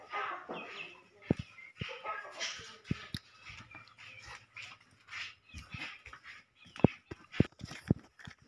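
Backyard chickens kept at a rural Philippine home cluck and squawk in scattered bursts, with a dog barking sharply several times and people murmuring faintly in the background.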